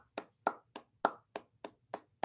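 Eight sharp, evenly spaced claps ring out close and crisp from a small group in a training session, each burst brief with a quick decay, no voices over them.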